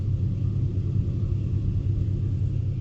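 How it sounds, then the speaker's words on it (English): An Infiniti G37x AWD idles in neutral with the e-brake set, a steady low engine rumble, close and even, with no revving or speech. "I'm gonna put it in neutral. While it's on and running with the e-brake pressed."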